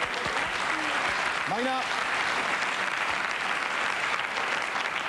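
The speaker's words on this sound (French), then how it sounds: "on peut l'applaudir" Studio audience applauding a guest on a French TV game show, a steady wash of clapping held at even loudness throughout, with a voice briefly speaking over it.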